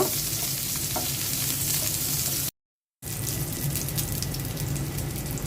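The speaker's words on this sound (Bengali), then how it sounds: "এখন করলা ভাজি করে নিব" Bitter gourd frying in a pan gives a dense, steady hiss and crackle, loud and close, broken by a brief half-second gap of silence midway.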